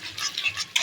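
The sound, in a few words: stirring and sautéing potato curry in a pan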